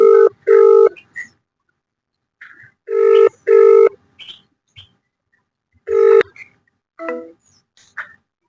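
Ringback tone of an outgoing phone call, heard as three loud double rings spaced a few seconds apart, with brief faint beeps and silence between them and no talking.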